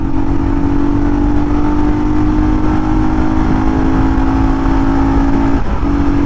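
A 2025 Royal Enfield Scram 440 motorcycle engine drones steadily and loudly under a rider at speed, with a constant low rumble and strong wind noise throughout and no pauses.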